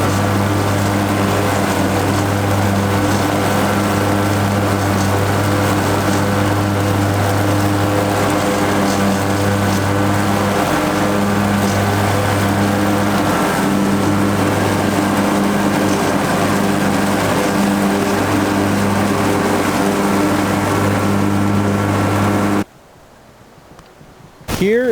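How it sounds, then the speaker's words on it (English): A zero-turn lawn mower cuts thick, mature clover about six or seven inches tall, its engine droning loud and steady up close for over twenty seconds before cutting out abruptly near the end. "So let's get to mowing it right now."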